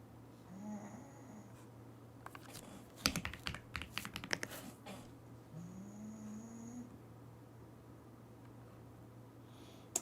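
Mechanical computer keyboard typed in a quick burst of clicky, clacky keystrokes at close range, with quiet room hum and a few faint scattered noises before and after.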